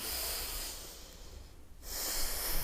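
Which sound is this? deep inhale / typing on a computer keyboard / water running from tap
deep inhale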